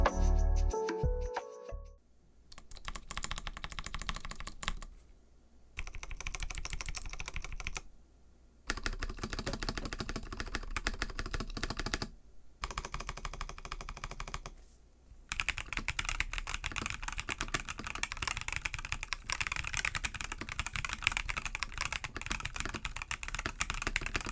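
A Razer BlackWidow V4 mechanical keyboard with lubricated Razer orange switches is typed on in fast, dense runs of crisp key clicks, broken by several short pauses, close and alone.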